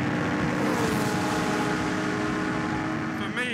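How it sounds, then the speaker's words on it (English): A Hesketh Formula One race car screams at Zandvoort, its engine a loud, sustained, dense high-revving roar that fills the whole stretch before easing slightly at the end. "Oh, listen to that engine."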